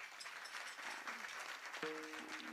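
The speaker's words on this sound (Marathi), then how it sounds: "एकदा तुम्ही तुमच्यासाठी जोरात टाळी वाजवा" A kirtan audience in Pune claps together, heard softly and somewhat distant as a continuous patter, while a sustained musical tone comes in near the end.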